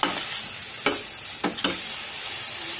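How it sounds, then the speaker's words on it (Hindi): Onion and tomato chutney cooks in a pan with a steady close sizzle, broken by a few sharp stirring scrapes or clinks. No one talks. "अभी इसको थोड़ा सा पकने देंगे ताकि टमाटर जो है वो अच्छी तरह से गल जाएं"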